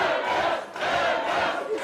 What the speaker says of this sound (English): The crowd are losing it.